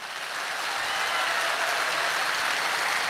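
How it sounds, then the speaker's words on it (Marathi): Dense, sustained clapping from a big audience at a live Marathi stand-up comedy performance, loud and even throughout with no break and no talking over it. "जोरदार टाळ्या होत्या आपल्या मायबापाच्या स्वप्नासाठी"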